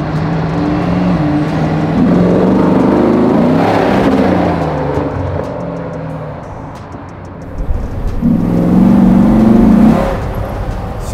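A 500-horsepower LT1 V8 in a Land Rover Defender restomod truck roars as it accelerates hard, revving up, easing off, then surging loudly again, with no talking.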